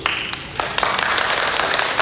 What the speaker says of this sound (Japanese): じゃあちょっとね、拍手してください、どっちが聴きたいか。